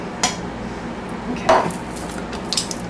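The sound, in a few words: opening cans with a can opener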